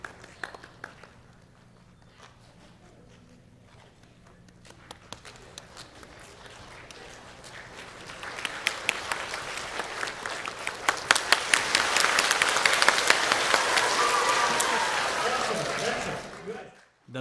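A group claps together, starting soft and sparse, then swelling into loud, dense applause-like clapping before cutting off abruptly.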